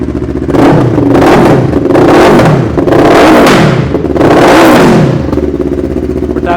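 A Taro GP1 motorcycle fitted with an aftermarket exhaust is revved hard, about four loud close surges rising and falling in pitch over a rumbling idle, with no talk over it.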